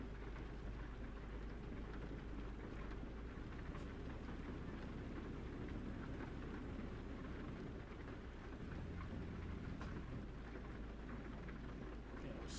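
Steady rain and rumbling thunder surround a truck driving through a storm in American Truck Simulator, the downpour dense and continuous with low engine rumble beneath and no voices.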